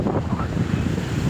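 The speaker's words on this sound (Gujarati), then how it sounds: "ખૂબ જ ઊંચા મોજા ઉછળી રહ્યા છે." Tall ocean waves surge and crash onto a beach in a continuous roar, with gusts of wind buffeting the microphone and no speech.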